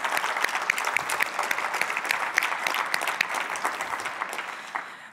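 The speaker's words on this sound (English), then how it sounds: "give another round of applause for all of our speakers this morning" Conference audience applauding the morning's keynote speakers, heard as a full, steady roar of many hands clapping at some distance that fades out at the end.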